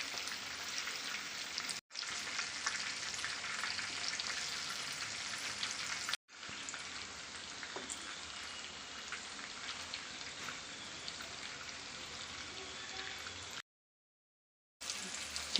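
Chilli chicken pieces sizzle and crackle steadily in a hot pan, a dense continuous frying hiss broken by two short pauses and a brief silence near the end.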